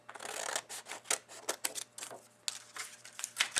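Scissors snip through folded tissue paper along the crease while making a gift bag template, a run of short crisp cuts and paper rustles close by, fairly quiet.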